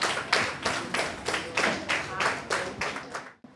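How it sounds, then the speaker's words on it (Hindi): Several hands clap in a brisk, regular rhythm for the children and judges at a patriotic school event, stopping abruptly after a few seconds. "जोरदार तालियां हमारे सभी बच्चों"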